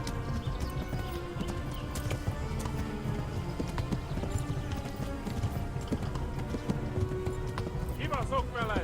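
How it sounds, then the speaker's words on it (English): Horse hooves clip-clop at a gallop in the medieval game Kingdom Come: Deliverance, a steady rapid beat with a whinny, set under continuous shouting voices and battle noise. "One horse."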